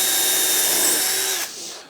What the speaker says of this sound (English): I'm just going to go out drilling again